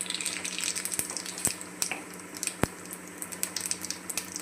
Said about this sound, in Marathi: बघू शकता इकडे माझं तेल गरम झालेलं आहे. आता मी याच्यात राई घालून घेते.